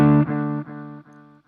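Electric guitar chord through an MXR Carbon Copy analog delay set to a medium-length repeat, the strum echoing back three times in quickly fading repeats.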